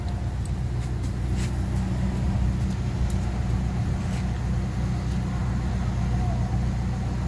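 A brand new Polaris engine idles steadily nearby, a continuous low rumble with a faint hum and no break throughout, while faint scattered ticks sit on top of it.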